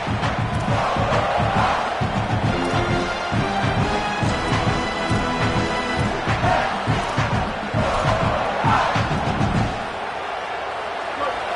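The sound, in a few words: football stadium crowd cheering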